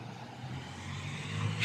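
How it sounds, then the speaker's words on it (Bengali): Road traffic rumbles faintly in the distance on a cold winter day, a low steady hum that swells slightly near the end as a vehicle approaches. "গাড়ি ঘোড়া চলতেছে দেখুন"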